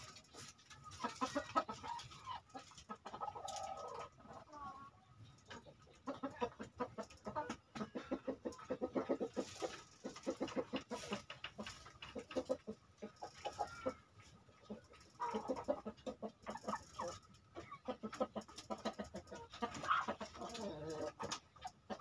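A flock of free-range village chickens clucks steadily in the late afternoon after feeding, a busy, continuous chorus of overlapping clucks and calls at moderate distance.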